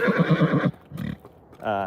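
A registered quarter horse of old Hancock cow-bred foundation lines whinnies in a loud, pulsing call, then quieter snorts and shuffling follow before a short rising neigh closes.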